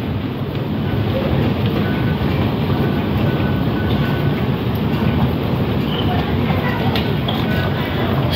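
Passenger train at Central station in Hong Kong in the early morning, a loud continuous rumbling roar of rolling cars with wind buffeting the microphone, steady throughout and close by.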